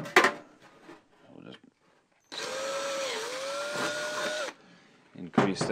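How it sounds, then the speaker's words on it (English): A power drill enlarges a hole in the kick panel of a vintage VW Bug, a sustained whining run of about two seconds with a pitch dip mid-way, framed by short clicks and handling noises before and after. "I'm going to have to drill the hole out here in the panel so my screw can go through."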